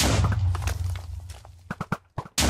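Arrows tipped with TNT explode in a Minecraft party minigame, giving a run of sharp, loud booming thuds near the end after a denser stretch of game noise and thumps.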